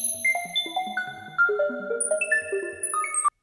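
Frozen synth sparkle texture washing in: a cascade of bright, bell-like tones entering one after another at different pitches, layering and sustaining into a shimmering wash before cutting off abruptly.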